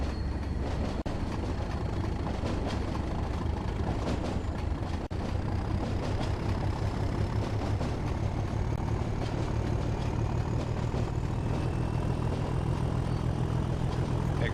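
A Class 37 diesel locomotive in Train Sim World on the Tees Valley Line builds power with a steady low engine drone and rising whine, continuous and fairly close, with no talking.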